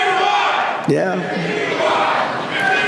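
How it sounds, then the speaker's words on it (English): A large, loud rally crowd chants "51, 51" in a steady roar that fills the whole stretch, while a single voice briefly calls out over it near the middle. "The crowd is chanting 51, 51."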